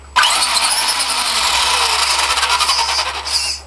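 A remote-controlled truck fitted with an Actobotics ServoCity low-voltage cutoff switch runs its electric motor in a steady, loud, high-pitched whine that lasts about three and a half seconds before cutting off, with no talking.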